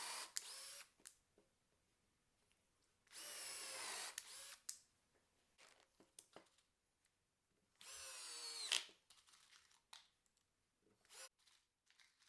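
A cordless drill drives screws into a homemade bench top drill press, heard as three separate high whirring bursts of one to two seconds each, with quiet pauses and small handling clicks between them.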